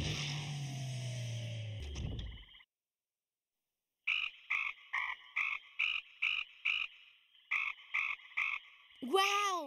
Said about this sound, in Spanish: ¡Escucha esas ranas! ¡Croan una melodía!